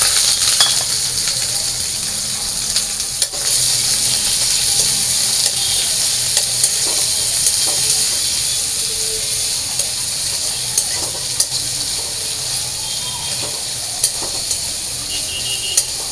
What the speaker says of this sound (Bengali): তো আমি পেঁয়াজটা মরিচটা ভালো করে ভেজে নিই